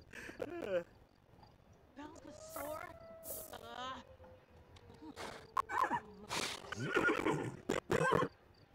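A horse in The Sims 4 Horse Ranch whinnies several times amid game effects and scattered thumps, with the calls rising and falling over a few seconds.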